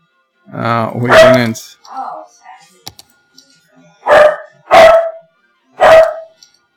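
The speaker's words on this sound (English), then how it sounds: "Sorry about sassy barking." A pet dog barks several times in sharp, loud single barks spaced about a second apart near a computer, following a brief burst of close speech and a quiet keyboard click.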